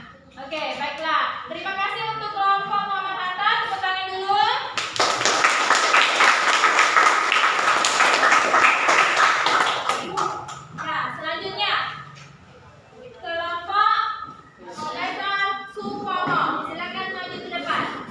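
Classroom applause for a presenting student group, a burst of many hands clapping that lasts several seconds between stretches of a teacher and children talking nearby.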